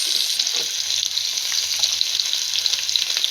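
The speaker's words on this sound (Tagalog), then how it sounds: "gisan natin ng bawang. Haluin. Lagyan na natin ang sibuyas." Garlic and onion sautéing in a hot pan, giving a loud, steady, close sizzle with a faint crackle throughout and no voices.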